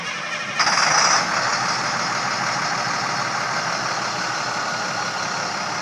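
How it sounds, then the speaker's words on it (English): A truck engine cranks and catches with a brief loud burst, then settles into a steady, rumbling idle that continues to the end, during a pre-trip air brake check. "Now I'm going to start my engine."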